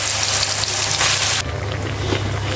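Olive pickle frying in oil with panch phoron spices: a loud, dense, continuous close sizzle that drops slightly partway through, then carries on steadily with faint crackles.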